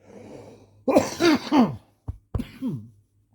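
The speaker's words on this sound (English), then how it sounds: "Forgive the coughing, guys." Someone coughs and clears their throat in a few rough bursts close up, followed by short sharp coughs and a sigh.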